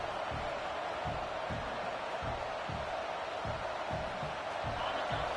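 A college football stadium crowd at Oregon vs Indiana roars as a constant loud wash of cheering, with a rhythmic low thumping beneath it.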